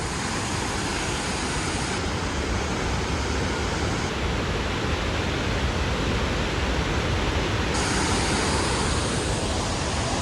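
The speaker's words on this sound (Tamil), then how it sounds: "இங்கேருந்தே மெயின் வாட்டர் ஃபால்ஸு." Hogenakkal main waterfall roars as a loud, dense, unbroken rush of falling water, close and continuous throughout.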